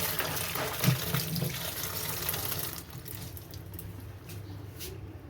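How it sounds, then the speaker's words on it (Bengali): Tap water runs steadily over green chillies being washed by hand in a sink, with small splashes and rubbing noises early on, then a softer, thinner flow. "লঙ্কাটাকে ভালো করে গলে গলে ধুয়ে নিচ্ছি।"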